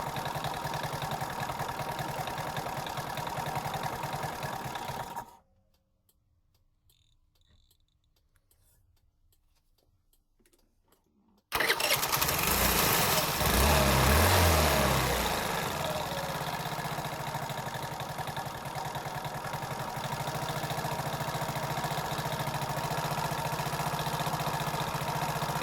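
A 4-stroke scooter engine undergoing carburetor tuning runs at a steady idle, cuts out into near silence for several seconds, then restarts and is blipped with revs before settling back to a loud, even idle, without talk.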